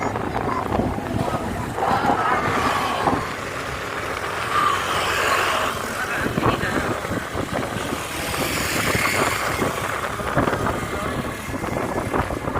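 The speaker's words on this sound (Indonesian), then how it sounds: "Kapal. Bentar lagi ya. Kapal laut." Wind and open-sea noise roar steadily around a ship off Ulee Lheue, Banda Aceh, with water washing against the hull and voices talking intermittently.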